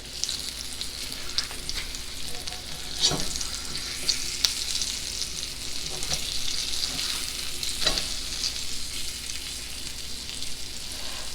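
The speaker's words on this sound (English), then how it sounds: "what we're going to do is kind of sear them first on both sides" Pork chops sear in a hot pan over medium heat for smothered pork chops, giving a steady crackling sizzle close up with a few louder pops and spatters throughout.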